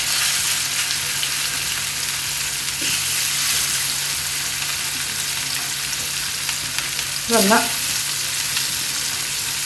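Fish sizzles and fries steadily in hot oil for a curry, a dense continuous crackle close by, with a brief stir or scrape near the end and a single short spoken word.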